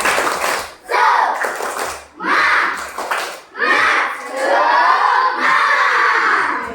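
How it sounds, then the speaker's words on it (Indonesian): Schoolchildren in an Indonesian classroom chant and clap a rhythmic cheer in bursts, loud, close group voices with claps rising and falling across several repetitions. "Yang tepuk semangatnya. Tepuk semangat."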